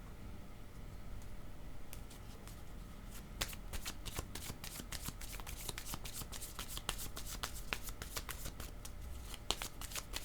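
Tarot cards being shuffled by hand, a steady run of crisp riffling clicks and soft slaps that continues for several seconds, close and fairly quiet with no talking.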